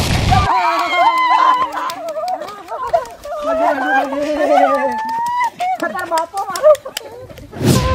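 Firecrackers burst at a family birthday celebration, one sharp crack at the start and another near the end, with lively overlapping voices talking and calling out in between.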